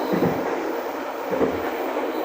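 Papandayan panoramic passenger train rolling on rails between Gambir and Garut, heard from inside the carriage as a steady rumbling hum with faint wheel clatter, no voices.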